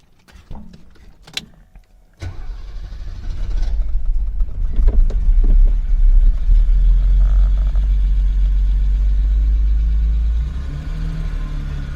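A junkyard car cranks briefly and its engine catches at about two seconds, then settles into a loud, steady low idle rumble that holds to the end and eases slightly near ten seconds.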